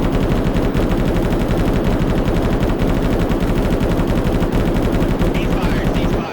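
A machine gun firing at its cyclic rate in Arma 3, a loud unbroken burst of rapid, evenly spaced shots lasting about six seconds before stopping abruptly.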